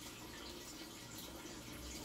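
Water from an aquarium filter pours steadily into the tank like a small waterfall, a continuous close splashing and gurgling wash with no voices over it.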